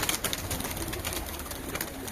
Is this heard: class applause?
no